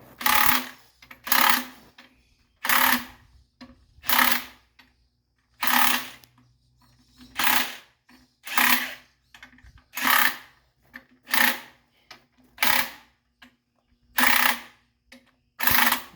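An impact wrench hammers a pin out of a broken-down track tamper machine. It fires in about thirteen short, loud rattling bursts separated by brief pauses, close to the listener.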